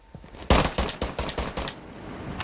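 Rifle fire in Rainbow Six Siege, heard as a string of about eight to ten rapid, loud shots in quick bursts, each crack trailing into the next with no talk over it.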